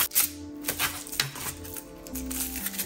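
Tarot cards are shuffled in quick, crisp riffles and flicks, close up and fairly steady, with a faint musical hum in the background.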